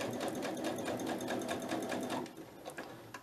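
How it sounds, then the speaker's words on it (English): A sewing machine runs a zigzag stitch through fabric with a fast, steady, close mechanical whir for about two seconds. It then slows into a few uneven clunks as it stops. "I'm not really bothered how I sew it, so I'm just going to, I might change and do a little bit of like zigzag on here as well."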